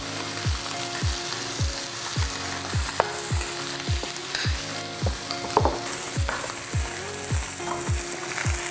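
Fish fillets seasoned with salt and pepper fry steadily in a hot pan, giving a continuous close sizzle with a regular ticking, clicking pulse running through it and no talking.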